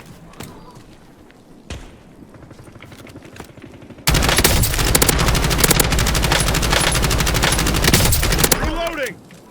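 Call of Duty Warzone battle gunfire: scattered single shots and muffled footsteps, then a long loud burst of rapid automatic fire crackling for several seconds before cutting off, with a voice heard faintly underneath.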